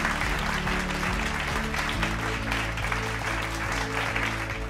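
An audience applauds to welcome Secretary of State Mamadou Touré at a leadership award ceremony. Continuous clapping is partly buried under loud, droning music throughout.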